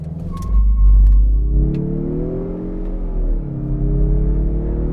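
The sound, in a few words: turbo car engine accelerating 0 to 60 in sport mode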